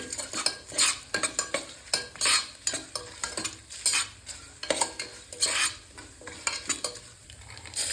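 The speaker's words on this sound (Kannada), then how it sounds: "ಗೋಡಂಬಿ ಹಾಕೊಂಡು ಸ್ವಲ್ಪ ಬಾಡಿಸಿ ಅದು ಸ್ವಲ್ಪ ಬ್ರೌನ್ ಆಗೋವರೆಗೂ ಹುರ್ಕೊಳ್ಳಿ" Cashews fry in a pan and get stirred repeatedly, a bright sizzle under rhythmic metal spoon scrapes and clinks against the pan, close and steady, with no speech.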